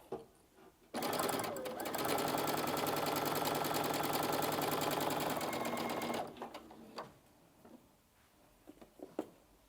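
Brother VQ2 sewing machine running steadily for about five seconds, stitching a quarter-inch seam on a fabric scrap, a dense, even mechanical whir that stops abruptly, followed by a few soft handling clicks.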